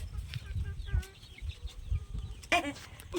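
Hens cluck softly at a village chicken coop where a hen has laid eggs, with faint, brief calls scattered through a quiet rural setting and low murmurs of voices nearby.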